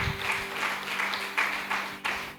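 A church congregation claps in praise during a Spanish-language service, producing a brief burst of uneven, moderately loud applause with a few sharper peaks.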